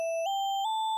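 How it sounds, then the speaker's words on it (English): A gliss lead preset from the free Surge synth, used as a melodic accent in a trap beat: a bright, sustained solo tone that glides up in pitch twice in quick steps, with no other sounds. "I use the gliss lead, and it's just like a little accent at the end."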